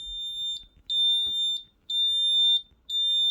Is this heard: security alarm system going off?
yes